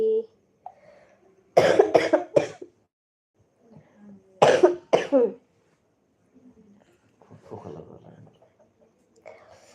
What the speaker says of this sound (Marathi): मला भरपूर खोकला झाला आहे